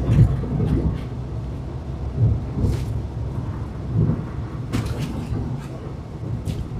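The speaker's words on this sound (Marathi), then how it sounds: "इथे रस्त्यावरनं पूर्ण फॉग आहे, पाऊस पडतोय." Steady rain noise with a low rumbling drone, like driving through a downpour on a foggy road toward the Bhoste ghat in Konkan, continuous and moderately loud with occasional sharper splashes.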